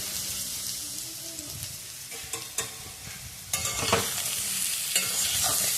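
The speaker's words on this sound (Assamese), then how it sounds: "আলু ফ্ৰাই কৰি আছোঁ" Potatoes frying in hot oil, a close steady sizzle broken by stirring scrapes and clatters of a spoon against the pan, growing busier toward the end, no voices.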